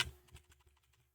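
Computer keyboard keys tapped during editing of a PDF document, a short burst of crisp clicks that starts with a louder press and then trails off into quieter, evenly spaced taps.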